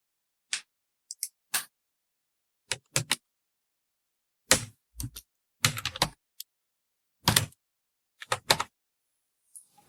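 Computer keyboard typing Bengali script through a phonetic input tool, heard as sparse bursts of light plastic key clicks separated by pauses, close and fairly quiet, with no one speaking.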